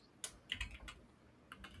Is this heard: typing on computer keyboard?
yes